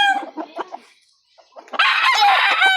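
A straight Golden Boy sweater gamefowl rooster in a backyard, clucking in short bursts, then a pause before a loud, close crow that carries to the end.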